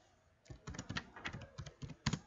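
Quick, close typing on a computer keyboard, a steady run of clicks and key presses with a slightly louder stroke near the end, no voice over it.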